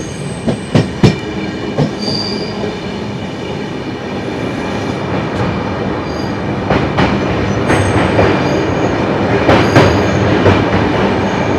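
Passenger train from Sairang to Kolkata running on rails, a steady loud rumble of wheels with sharp clicks and clacks at rail joints and brief squeals, heard from on board with no talk.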